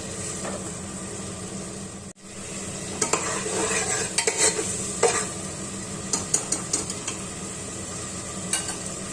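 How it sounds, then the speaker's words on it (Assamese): Tomato paste frying on high flame in a pan, a steady sizzle broken by a spoon scraping and clinking against the metal as it is stirred, close and loud, with no talking. "বিলাহীৰ কেঁচা গোন্ধটো মাৰ যোৱালৈকে ভাজি লম। হাই ফ্লেমত দিলোঁ।"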